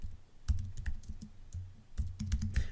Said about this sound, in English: I'm just going to type in my name and type in my position.